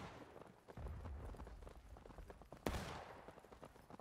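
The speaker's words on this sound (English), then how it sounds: "They're shooting at us." Gunfire crackles in a Civil War–era War of Rights video game battle, with dense low rumbling volleys and a sharp loud crack near the middle standing out.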